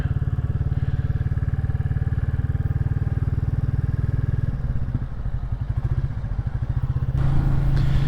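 A Royal Enfield Classic 350 motorcycle being ridden in Brittany, France, its single-cylinder engine thumping steadily and loudly up close, with the rhythm shifting partway as it changes speed.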